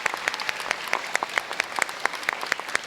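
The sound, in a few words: applause for student alumni panel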